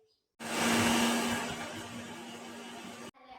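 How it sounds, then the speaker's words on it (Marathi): A kitchen mixer grinder whirs loudly while chopping neem leaves with Bhimseni camphor, a steady high motor whine starting abruptly, holding for nearly three seconds, then cutting off. "कडुलिंबाचा पाला व त्यात भीमसेन कापूर टाकावे आणि मिक्सर मध्ये"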